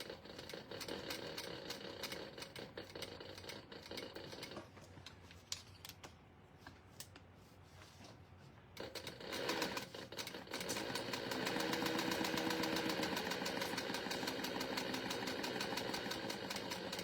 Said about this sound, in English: Keep in mind this is a compound walking foot, so it's gonna sew a little bit differently because the needle feeds in this machine also.